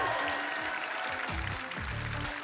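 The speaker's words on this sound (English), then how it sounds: "Let's have one other huge round of applause" A cosplay contest crowd at MagicCon Chicago gives a sustained round of applause for a contestant leaving the stage, with a steady dense wash of clapping and the low rumble of a large hall underneath.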